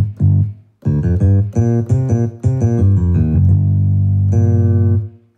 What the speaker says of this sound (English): And you select a bass sound like this.